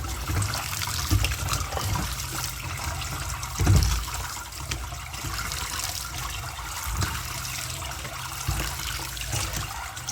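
Boiled bottle gourd leaves are rinsed in water, with steady close splashing, trickling and sloshing throughout and a slightly louder splash partway through.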